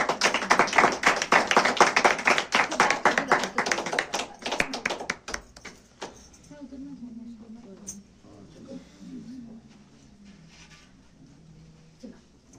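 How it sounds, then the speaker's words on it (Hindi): A church congregation claps enthusiastically to welcome the pastor, a loud burst of rapid hand claps that dies away after about six seconds, followed by quiet room sounds and a speaking voice. "पास्टर साहब को हम भरपूर तालियों में बुलाते हैं"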